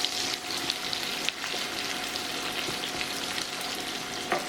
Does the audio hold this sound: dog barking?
no